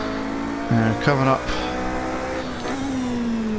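Toyota TS050 Hybrid race car engine downshifting on a circuit, a steady high engine whine that steps up sharply twice in quick succession, then settles into a slowly rising drone, with someone talking over it.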